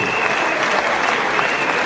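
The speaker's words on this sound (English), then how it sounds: "Now clap for the First Lady." Sustained, dense clapping from a large audience at an SLPP national delegates conference in Sierra Leone, applauding the First Lady; steady and loud throughout with a faint crowd murmur underneath.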